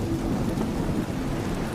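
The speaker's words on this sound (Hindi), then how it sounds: "तभी बारिश शुरू हो जाती है।" Steady rain falls with a low, rumbling wash like distant thunder beneath it, a brief, even stretch of storm noise with no voices.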